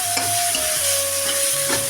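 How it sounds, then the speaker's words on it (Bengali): Onion and tomato fry in a pan while being stirred, giving a steady close sizzle with soft scraping strokes and no talking. "পেঁয়াজটা অনেকটাই ভাজা হয়ে গেছে"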